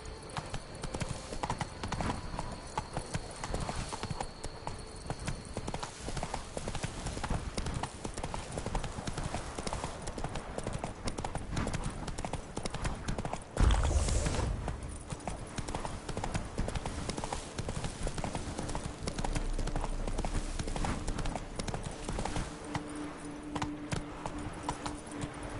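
A horse's hooves clip-clop in a steady rapid rhythm throughout, ridden in The Witcher 3: Wild Hunt Blood and Wine expansion on PS4, with game ambience and a brief louder thump midway.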